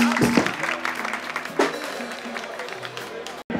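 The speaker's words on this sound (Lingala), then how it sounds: "Est-ce qu'on peut l'applaudir s'il vous plaît?" An audience applauds during a music rehearsal with clapping that rises and fades over a few seconds. Voices and crowd noise mix with the applause until a brief cut near the end.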